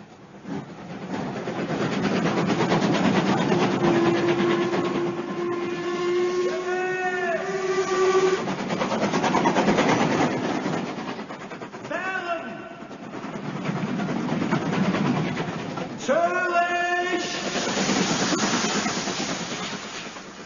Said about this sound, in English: And so we took the train to Dover and thence crossed to the continent.